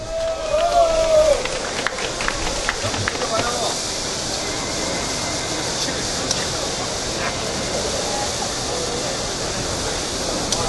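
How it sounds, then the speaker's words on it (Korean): A large crowd applauds steadily at an outdoor political rally as a Democratic Party provincial leader is welcomed, a broad, continuous roar of clapping that follows a brief voice at the start. "뜨거운 박수로 맞아주시기 바랍니다."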